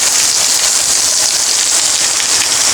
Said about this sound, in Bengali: সেই সকাল থেকে বৃষ্টি হচ্ছে প্রচুর বৃষ্টি আসছে